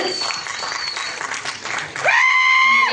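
An audience applauds at the music release event for the Tamil film Nirvagam Porupalla, a steady wash of clapping for about two seconds before it is cut off by a bright sustained musical tone.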